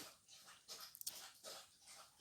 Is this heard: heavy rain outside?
no